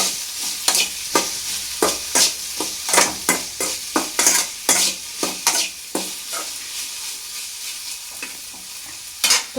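Masala okra (bhendi) being stirred in a frying pan, a spoon scraping repeatedly against the pan in an irregular rhythm over a soft, steady sizzle, close and clear with no talking.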